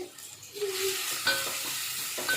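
Finely chopped onion sautés in hot oil in a pan on a home stove, giving a steady close sizzle with light stirring scrapes and no talk over it.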